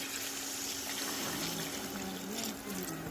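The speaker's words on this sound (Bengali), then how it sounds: "দিয়ে দিচ্ছি ভাজা আলু, দিচ্ছি গরম জল" Hot water pours steadily into mutton curry in a cooking pot, a continuous gushing, splashing wash close at hand that lasts a few seconds before stopping abruptly.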